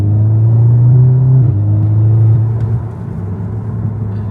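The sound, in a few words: car driving on a wet road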